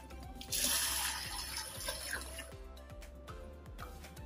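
Ingredients are rinsed under running water, with a gush that swells near the start and then thins into splashing and a few drips, heard at moderate volume over a low steady hum.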